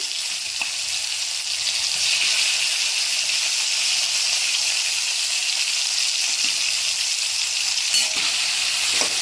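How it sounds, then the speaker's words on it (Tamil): Tomatoes sautéing in hot oil with mustard and fennel seeds for a broccoli kurma, a steady loud close hissing sizzle that continues without pause, with faint occasional pops and no talking. "இதுக்கப்புறம் நம்ம எடுத்து வச்சுக்க தக்காளி போட்டுடலாம்."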